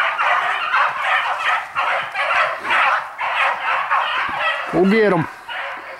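Harehounds baying in full cry while chasing a hare through swamp country, a continuous chorus of loud overlapping howls and yelps with one close, rising bay near the end, while someone speaks briefly over it.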